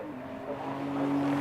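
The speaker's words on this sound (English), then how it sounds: "So a pair of them out of the Robert chicane over the start-finish line." A pair of Porsche Boxster Cup race cars exit the chicane at Donington Park and cross the start-finish line, their engines rising in a sustained, building roar over about a second and a half.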